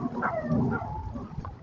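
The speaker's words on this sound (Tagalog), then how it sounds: "Kawawa naman yung aso. Oh, iyak ng iyak." A dog whimpers and cries in short, thin bursts beside a swollen, flooded river during steady rain, the calls close and moderately loud over a constant wash of water and rainfall.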